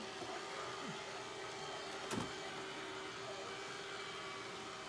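A TONOR robotic vacuum cleaner runs with a steady, continuous motor whir and suction drone throughout, with a brief louder clatter midway as it picks up debris.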